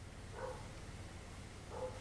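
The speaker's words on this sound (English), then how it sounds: "God damn it, dog, shut up. I hear you barking." A dog barks twice in the distance, two short faint woofs spaced more than a second apart over a low background hum.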